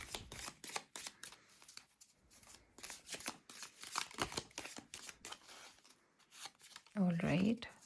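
Tarot cards shuffled and handled close by, a run of quick papery riffles and flicks of varying loudness, with a short louder rustle near the end.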